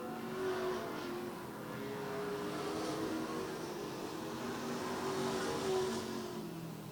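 Street stock race cars roar around the oval at Lee USA Speedway, a continuous distant engine drone that swells and fades as the pack circles, with no voices over it.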